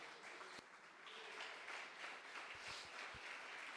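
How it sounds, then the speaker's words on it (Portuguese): Quiet, distant applause and clapping from a church congregation at a live family celebration service, a steady wash of hands with a few low thumps underneath. "Dá uma salva de palmas a Jesus"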